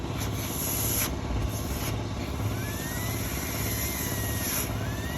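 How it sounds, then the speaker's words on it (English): Exhaust of a Ford Ranger with a cylinder 1 misfire, likely from a burned or bent exhaust valve, gives a steady close rumble with an uneven pulsing beat and faint whining tones above. "and we listen to the exhaust."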